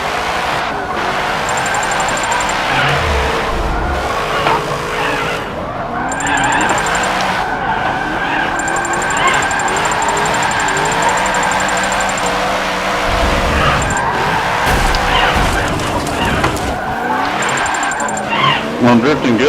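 Tires squeal in long, drawn-out screeches as a car drifts in a video game, the engine droning loudly throughout, with someone talking over the sliding runs.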